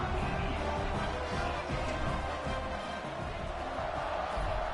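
Football stadium crowd at an NCAA game just before kickoff, a dense, continuous roar of many voices heard from a distance, fairly faint and steady throughout.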